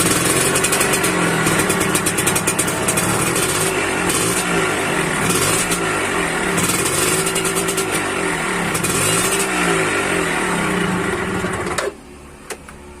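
A Suzuki Satria two-stroke motorcycle engine runs on a weak battery, a loud, close, buzzy idle with fluctuating revs that cuts out abruptly near the end.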